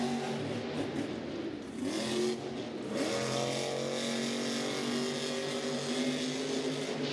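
Heavy monster truck engines, including Corey Rumble's Zombie, rev and roar continuously at a Monster Jam race in Anaheim, with rising and falling pitch sweeps over steady crowd-filled arena noise.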